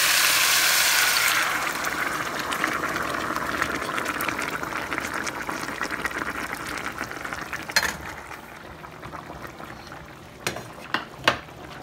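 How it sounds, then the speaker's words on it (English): Chile verde sauce poured straight into a pot of pork, giving a loud, steady liquid rush at first that thins into softer gurgles and a few sharp knocks near the end, with no talking. "I'm gonna pour it right in,"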